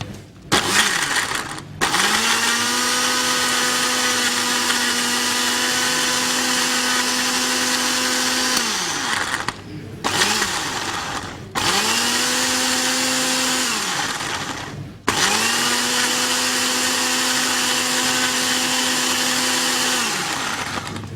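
A kitchen blender grinds two onions with a little water into a paste, running loud and steady in three long bursts with brief pauses between them, the motor pitch dropping and rising as each run starts and stops.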